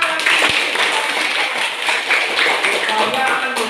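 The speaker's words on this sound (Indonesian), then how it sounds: "berikan tepuk tangan" A class of students claps hands in a classroom, with busy, scattered claps mixed with lively children's voices and chatter throughout the short burst.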